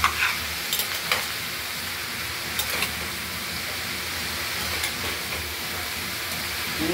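Bottle gourd curry with lentil dumplings, coriander leaves and turmeric, stirred in a pan. A steady frying hiss continues throughout, broken by occasional scraping clinks of the spoon.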